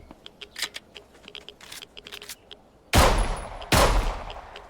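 Gunfire in the zombie survival game HumanitZ, scattered clicks and light taps followed by two loud close bursts of shots, each trailing off briefly.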